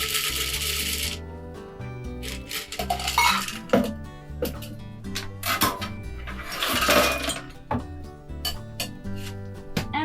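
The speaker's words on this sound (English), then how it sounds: "by now it's cold enough, and I'm gonna strain it" Ice and metal clink and rattle in irregular bursts as a chilled cocktail is strained from a shaker, heard over steady background music with no talking.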